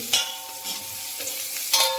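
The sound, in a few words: stirring onion and coriander leaves in a pan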